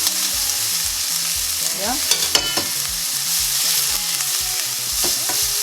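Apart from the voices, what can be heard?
onion frying in pan for Ugandan rolex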